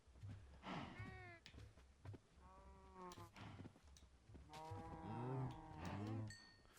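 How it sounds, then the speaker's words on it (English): Minecraft cows mooing in a game, several drawn-out low moos in a row, with faint bleating and brief game sounds between them. "The cows sound weird."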